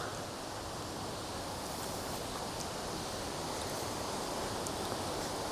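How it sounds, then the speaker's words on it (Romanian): The Svartfossgrotta waterfall in Scandinavia, swollen after rain, gives off a steady, broadband rushing roar at a constant moderate level with no voices over it. "Se aude cascada deja. Face gălăgie."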